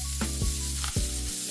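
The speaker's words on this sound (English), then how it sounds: "Now I'm going to spray that again to find the hole." A can sprays onto a flat bicycle tire to find the hole, hissing steadily and loudly at close range for a moment.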